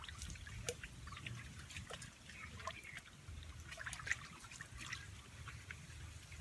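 Liquid feed being stirred for a cow, soft irregular trickling and sloshing with small splashes and clinks, fairly quiet and close, no talking.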